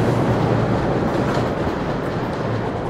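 A train rolls past on the rail line through Charlestown toward downtown Boston, a loud, steady rumble with clickety-clack wheel noise filling the whole stretch with no speech.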